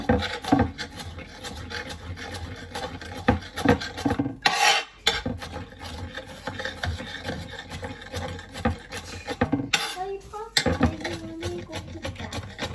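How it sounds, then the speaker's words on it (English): Vegetables being finely chopped for salt fish fritters give a busy, rhythmic rasping and tapping of a knife on a wooden board, close and continuous with a couple of brief pauses. "we're gonna finely chop them just so everything could cook a bit better"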